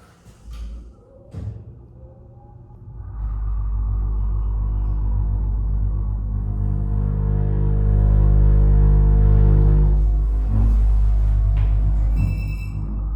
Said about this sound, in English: Let's hear the motor.